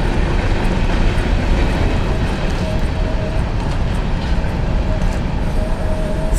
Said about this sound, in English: Let's keep following the train, why don't we?